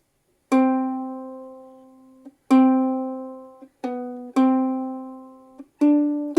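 A plucked ukulele picks out the single-note melody of a song, each note ringing clearly and decaying before the next, with no strummed chords.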